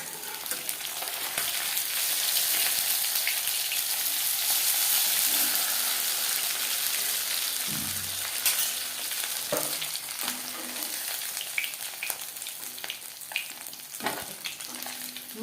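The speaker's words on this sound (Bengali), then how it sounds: "মাছ বেশ ভালো করে ভাজা হয়ে গেছে।" Katla fish pieces frying crisp in oil over a medium flame sizzle in a loud, continuous hiss, broken by scattered pops and a few turning and stirring knocks.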